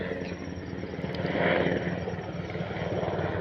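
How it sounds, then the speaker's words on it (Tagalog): A helicopter passes overhead in the morning above farmland rich in vegetables, fruits and flowers. Its rotor makes a steady, fairly loud broadband rumble that swells around the middle of the pass, with no talk. "So, ang aga ng helicopter,"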